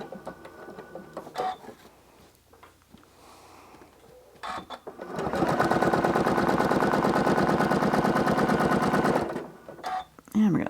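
A sewing machine runs fast and steady for several seconds during free motion quilting of a paisley flower pattern, its rapid needle chatter loud and close, with quieter handling and starts before and after.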